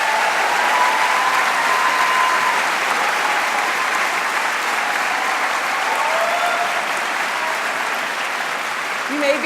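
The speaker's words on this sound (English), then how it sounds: "let's give them a round of applause" A commencement audience applauds the kinesiology faculty as they stand, a dense, steady wash of clapping that fills the whole stretch and stays loud throughout.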